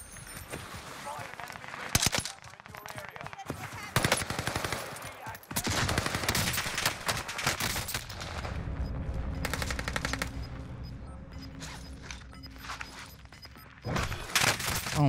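Gunfire in Call of Duty Warzone: bursts of rapid automatic shots crack close and loud, broken by short gaps, with a steady engine-like drone in the middle stretch and someone talking now and then.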